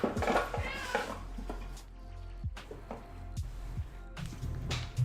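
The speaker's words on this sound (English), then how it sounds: "I don't know why you're meowing at me" A pet cat meows several times close by, short separate calls spread through a quiet room, mixed with a few light clinks and taps of painting tools.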